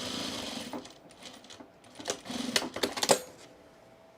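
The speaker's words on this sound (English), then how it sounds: "Reinforce the top of the pocket with a tight zigzag stitch." A home sewing machine stitches across the top of an overalls pocket in short, uneven mechanical bursts, with pauses and a few sharp clicks between runs.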